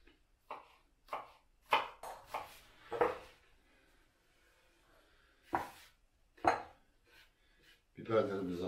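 A knife chops onions or peppers finely on a board for a homemade kuşbaşı pide, with short sharp clusters of taps separated by quiet pauses, close and fairly faint.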